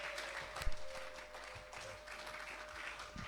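A church congregation applauds steadily for the whole stretch, a dense, even wash of clapping with one sharper burst early on and a faint steady tone running underneath.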